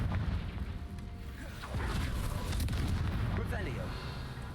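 Confringo fire spell explosions in Hogwarts Legacy, bursting as low booms amid steady game background noise, with a voice talking faintly over them.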